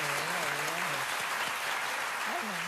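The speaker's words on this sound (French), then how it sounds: "Applaudissez." Audience applause on a French television show fills the clip as a continuous wash of clapping, with a voice audible over it throughout.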